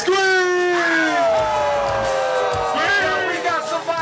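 A live hip-hop reunion crowd screams and whoops loudly at close range, with several voices overlapping in rising and falling yells that fill the whole stretch.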